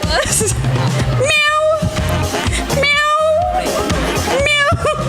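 A person imitates a cat's meow three times in a row, each a drawn-out wavering call, over busy background noise at a live festival game-show contest.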